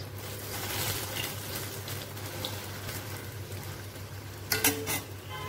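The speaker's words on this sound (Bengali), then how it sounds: "এই যে চালের গুঁড়ো, বেসন, লঙ্কার গুঁড়ো, হলুদ, লবণ দিয়ে মাখিয়ে এই যে এখন এখানে তেলের মধ্যে দিয়ে ভাজা ভাজা করছি।" Potato-stuffed tomatoes coated in rice flour, gram flour, chili powder, turmeric and salt fry in oil with a soft, steady sizzle under a low hum, then a few brief utensil clinks near the end.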